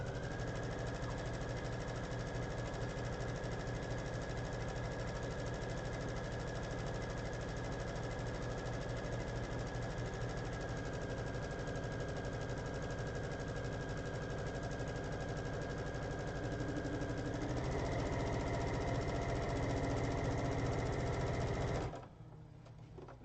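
A sewing machine runs nonstop while stitching down the side of a graduation quilt, a steady fast mechanical whir and rattle with a faint high whine, close and even, its pitch shifting slightly before it stops near the end.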